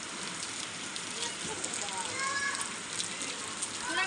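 Steady rain falls in a continuous dense hiss, spattering on surfaces nearby at an even level throughout.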